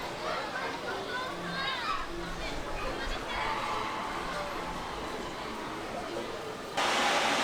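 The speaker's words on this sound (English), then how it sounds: "You can hear the Disneyland Railroad in the background blowing off some steam." Disneyland Railroad steam train venting steam at night in the park, a soft hiss that swells into a broader rush near the end, heard behind crowd chatter and nearby voices.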